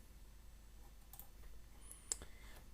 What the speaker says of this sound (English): if you right click on system